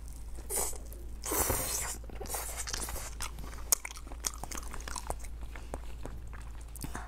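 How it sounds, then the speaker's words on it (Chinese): Close, crunchy chewing and biting of homemade stuffed lamb brain, repeated wet bites and mastication with soft tearing, loudest near the start and continuing steadily without talk. "自己包的大羊脑，尝一尝"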